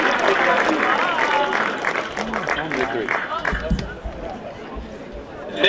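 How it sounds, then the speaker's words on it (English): Audience applause at a ceremony where people are called up one by one, a dense wash of clapping with cheers and voices mixed in throughout. "Please give a round of applause for Robbie Frangello."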